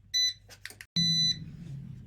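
An air fryer gives two bright electronic beeps set to 180 Celsius for 10 minutes after start is pressed, each a steady tone lasting about a quarter second, close and clear over low kitchen hum, with a soft rustle between.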